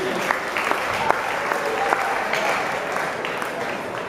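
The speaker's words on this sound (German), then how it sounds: "So, nochmal Ihr Applaus für die 60 Kilogramm Klasse" A boxing-championship crowd applauds the 60-kilogram class finalists, a loud sustained patter of many hands with a few sharper individual claps standing out, continuous for the whole stretch.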